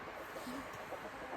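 Chickens on an off-grid homestead give a few soft, distant clucks against a faint, airy outdoor background.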